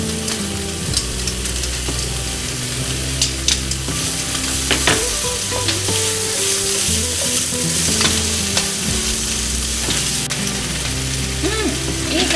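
Potatoes and onions, including Awaji Island onions, fry in a pan as garlic is added. The sizzle is loud and continuous throughout, with stirring, scraping and utensil clatter. No one speaks.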